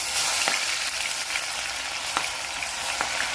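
Onion fries in hot oil for a local chicken dinner, giving a steady close sizzle with a few sharp stirring clicks scattered through it.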